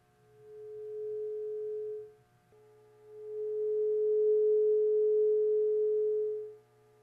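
A 341 hertz tuning fork held vibrating over the open end of a tube rings as a pure steady tone in two spans, the first briefer and quieter, the second longer and louder as the air column resonates, fading out at the end.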